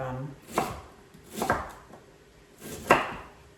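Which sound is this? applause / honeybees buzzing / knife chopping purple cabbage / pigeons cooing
knife chopping purple cabbage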